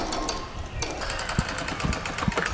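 A sewing machine stitches fabric for a pair of shorts in short, rapid bursts of clattering needle strokes with brief pauses between runs, close by and fairly loud.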